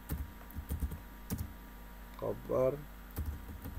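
Irregular clicks of a computer keyboard as a folder name is typed in a CorelDRAW calendar-design session, soft keystrokes scattered throughout with a brief spoken word in the middle.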